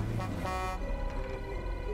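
A car horn honks in the zombie survival game State of Decay 2, a steady tonal blast over engine rumble, fairly loud and close, ending partway with the engine droning on.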